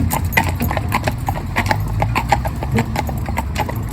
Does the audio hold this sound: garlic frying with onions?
no